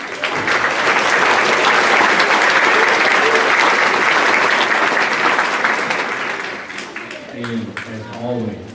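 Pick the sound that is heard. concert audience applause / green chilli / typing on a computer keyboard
concert audience applause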